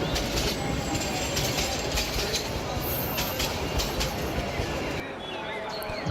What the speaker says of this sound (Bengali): ঠিক কয়েক সেকেন্ডের মধ্যেই ট্রেন এসে হাজির হলো।